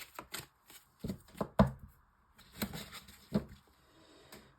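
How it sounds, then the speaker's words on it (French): An oracle deck shuffled by hand for a nine-card reading: close, dry bursts of riffling and card slaps in uneven clusters, separated by brief quiet pauses, with no voice. "je prends l'oracle d'Annabella pour un tirage en 9 cartes"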